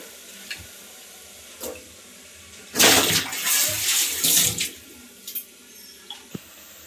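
Cauliflower florets for gobi are tipped into a pot of hot water, giving a loud rushing splash and pour of about two seconds, with a few light knocks and clinks before and after. No one speaks.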